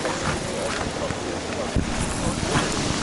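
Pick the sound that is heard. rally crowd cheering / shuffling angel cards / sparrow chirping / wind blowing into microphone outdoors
wind blowing into microphone outdoors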